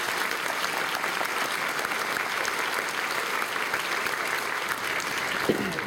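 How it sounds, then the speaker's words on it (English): A crowd at a high school graduation applauding steadily, dense continuous clapping that holds at an even level throughout. "Please give them one more round of applause to show our support."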